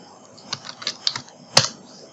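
Someone types on a computer keyboard while working in Photoshop, with a quick run of light irregular key clicks and one sharper, louder keystroke near the end, close and crisp.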